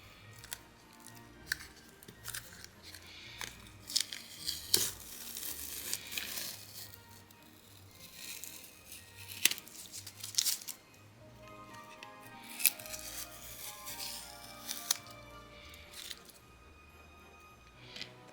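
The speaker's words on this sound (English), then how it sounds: "we can take off the tape" Tape is peeled off a glittered candle coated in Mod Podge, giving quiet intermittent crinkles, snaps and rips heard close up with no talking.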